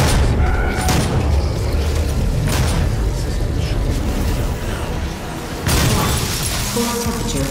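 A cooling tank explodes in DOOM, producing heavy booms and shattering crashes within a dense, loud wash of game noise, with a fresh blast near the end.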